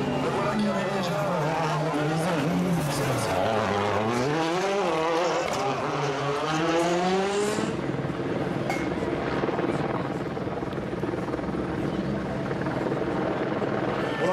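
Rally cars pass through the hairpin of the Mulhouse super special stage at the 2012 Rallye de France, engines revving up and down in sweeping pitch changes and then roaring past, with crowd noise and an announcer talking throughout.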